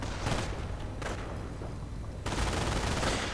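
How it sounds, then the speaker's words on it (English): An MG42 machine gun fires in a World War II strategy video game as a dense, continuous rattling burst, with a brief lull before another sustained burst, loud and close with no talk. "Opening up on the Rifleman with an MG42 in support."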